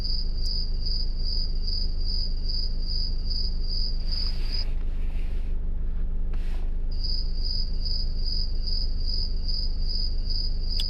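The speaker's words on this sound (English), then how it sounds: "Crickets." Crickets chirp in rapid, steady pulsing trills at night, a loud close insect chorus that drops out briefly in the middle before resuming.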